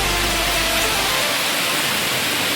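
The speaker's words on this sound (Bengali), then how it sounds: "প্রচন্ড জোরে বৃষ্টি পড়ছে" Heavy rain pours down in strong wind, making a loud, unbroken roar of dense hiss that fills the whole clip.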